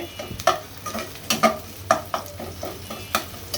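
Spice paste frying in a pan in a home kitchen, stirred with a spoon that scrapes and clacks against the metal in quick irregular strokes over a low sizzle, close and clear.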